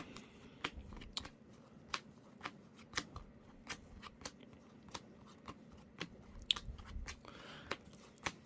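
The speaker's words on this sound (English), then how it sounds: "we're gonna do a power shuffle this time, because maybe we can avoid breaking" A deck of trading cards is power shuffled, giving a steady run of crisp, close snaps and riffles at a fairly even rhythm, fairly quiet with no talking.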